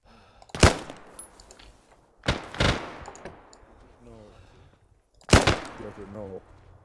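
Gunfire in the ArmA military shooter: three loud, sharp shots spaced a couple of seconds apart, close and punchy with short echoing tails, as cover fire, with someone talking between shots.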